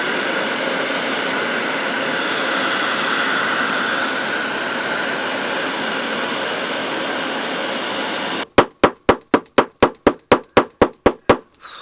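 A hair dryer blows steadily for about eight seconds, warming glue to soften it during restoration of a Vichy smoking monkey automaton, then cuts off and is followed by a quick run of about a dozen sharp, evenly spaced knocks.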